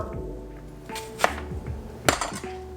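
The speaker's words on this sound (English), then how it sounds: "I'm gonna chop some onions" Knife chopping onions on a cutting board for homemade nachos, a few scattered sharp chops and taps, close and moderately loud, with no talking.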